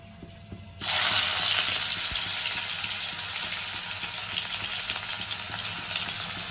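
Lentil fritters (bora) frying in a pan of hot oil give a loud, steady, close sizzle that bursts in abruptly and holds without pause, with faint clinks and kitchen sounds underneath.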